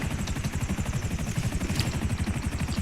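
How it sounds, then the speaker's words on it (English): Helicopters in the video game GTA 5 Online, a steady rapid rotor chop with dense low thumping that runs continuously and fairly loud, with no voices over it. "the stupid helicopters keep spawning in"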